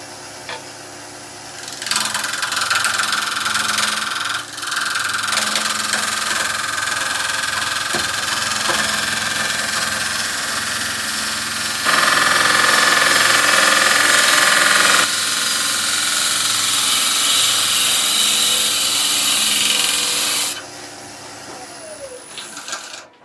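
A wood lathe turns timber for a natural edge vase, a steady motor drone with tool scraping that shifts in pitch and grows louder for a few seconds midway, as if sped up, then cuts off near the end.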